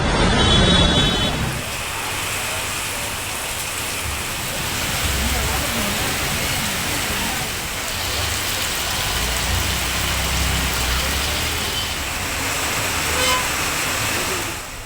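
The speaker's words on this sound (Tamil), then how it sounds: "சென்னையின் பல்வேறு இடங்களில் மிதமான மழை." Moderate rain falls on the streets of Chennai as a steady broadband hiss, mixed with the rumble of passing traffic and a brief car horn, while a voice talks over it.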